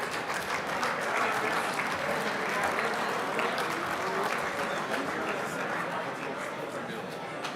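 A crowd at an RC car racing world championship awards banquet applauds steadily, with loud, dense clapping mixed with cheering and chatter throughout.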